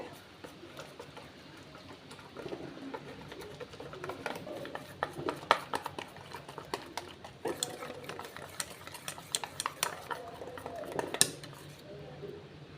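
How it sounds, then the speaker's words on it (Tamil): Rice flour batter for cauliflower bajji being stirred smooth in a bowl, giving soft wet squelching and repeated clicks of a spoon against the bowl, close by and steady with no talking. "இந்த அளவுக்கு ஸ்மூத்தாக கலக்கி வச்சுக்கலாம்"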